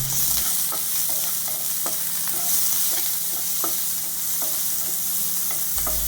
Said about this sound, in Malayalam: ഇനി ആവശ്യത്തിന് ഉപ്പും കൂടി ഇട്ട് കൊടുത്തിട്ട് ഇതിനെ ഒന്ന് നന്നായിട്ട് നമുക്ക് വഴറ്റിയെടുക്കണം